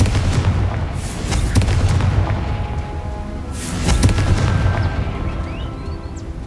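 A Confringo blasting spell goes off in the Hogwarts Legacy video game, giving two rumbling, booming explosive bursts, the first at the start and the second midway, over a dense, continuous battle din with no voices.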